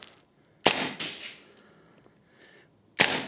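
A Vorsk VMP2 gas blowback airsoft rifle fires several sharp, close cracks with a snappy bolt clack, some in quick pairs and others spaced apart, with no talking.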